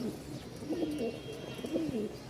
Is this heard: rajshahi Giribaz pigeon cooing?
yes